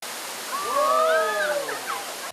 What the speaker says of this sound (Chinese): 清澈的溪水从高山上倾泻而下，就像是一片水帘，溪水拍打山壁发出哗啦啦的声响